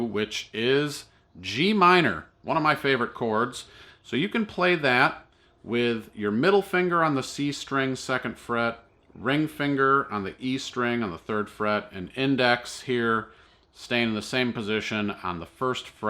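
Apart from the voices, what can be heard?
No distinct noise like a dog, phone or traffic.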